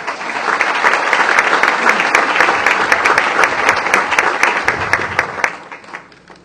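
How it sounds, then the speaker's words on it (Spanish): Audience at an International Human Rights Day ceremony applauds an honoree: thick, loud, continuous clapping from many hands that thins out and fades near the end. "Leonor, el aplauso de todo el público."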